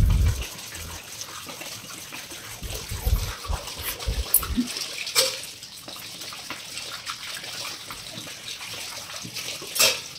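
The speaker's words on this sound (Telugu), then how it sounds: "బాసన్లకి నేను విమ్ లిక్విడ్ యూజ్ చేస్తాను." Dishes scrubbed with Vim liquid soap under a running tap, a steady wash of water with splashes and clinks from the basin, louder at first and continuing softly throughout.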